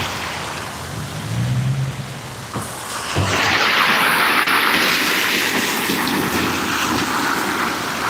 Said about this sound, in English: I like the sound of water, man.